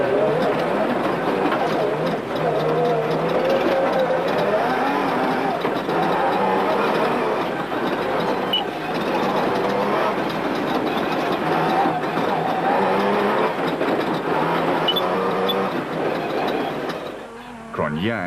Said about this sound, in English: Cronje and Birken's Toyota Hilux was singing along.